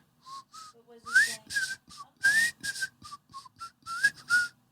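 A single person whistles a short, lively tune of separate bright notes with brief gaps, close and clear with no other sounds.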